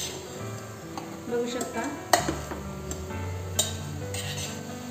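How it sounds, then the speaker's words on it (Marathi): Soya chunks sautéing in masala in a pan, with a steady sizzle, stirring scrapes and a few sharp clinks of a spoon against the pan, under brief talk. "तीन चार मिनट सोया चंक्स छान मसाल्यामध्ये परतून घेतलेले आहेत"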